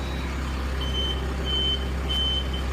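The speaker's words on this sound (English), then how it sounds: "Wait for the 3 beeps." Three evenly spaced high-pitched electronic beeps from a crane, sounding over a steady low engine rumble.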